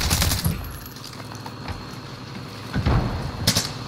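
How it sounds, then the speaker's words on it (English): Gunfire in a video game firefight, several sharp bursts of shots at the start and again near the end, with a quieter stretch in between. "I'm taking fire."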